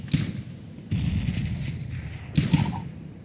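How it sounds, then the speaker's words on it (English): Grenade blasts and gunfire in a shooter video game, with a few sharp bursts and booms over a rumbling battle din. "I'm throwing a grenade"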